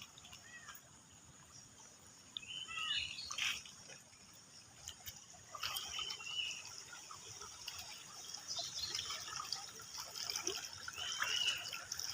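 Rainwater running along a road in Konkan after heavy rain, a faint continuous trickle and gurgle with scattered splashes and drips, fairly distant and quiet.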